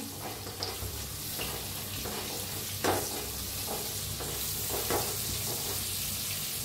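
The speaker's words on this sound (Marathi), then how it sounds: "ह्याच्यात टाकूया हळद अर्धा चमचा, लाल तिखट, छान मिक्स करून घेऊया।" Turmeric and red chilli powder being stirred into hot oil and vegetables in a frying pan, a continuous sizzle with occasional louder scraping strokes of the spoon, close and without speech.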